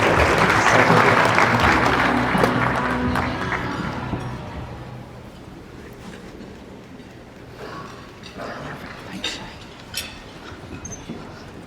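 An audience applauds and cheers at a governor's conference, a loud, dense wash of clapping that gradually thins out and fades to scattered claps.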